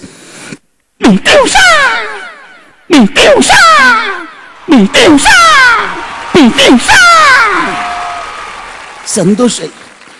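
A comedian on stage vocally imitates a Kerala country gun firing, with loud swooping whistles and cracks in several separate bursts, interspersed with talk.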